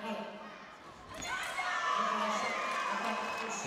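Spectators at a women's fencing final in Orléans cheer and shout to lift a home fencer, a swelling crowd roar with high voices that builds midway and stays loud.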